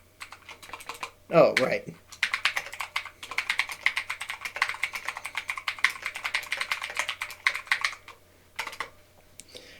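Rapid clacking keystrokes on a new keyboard resting on a lap, close and steady in bursts, with a brief louder bump near the start and a short spoken remark.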